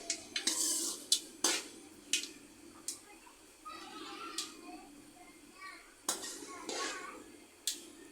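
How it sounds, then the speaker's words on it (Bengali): Panch phoron spices are stirred as they fry in a pan for a hog plum pickle, with sharp spatula clinks against metal over a faint sizzle and a voice heard softly in the background. "নেড়ে নিলাম পাঁচফোড়নগুলো একটু কালা হতে হবে"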